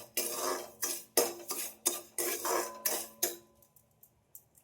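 A spoon scrapes rhythmically around a pan of melting sugar for semolina halwa, about eight brisk clinking strokes in a row, then a few lighter taps as the stirring trails off.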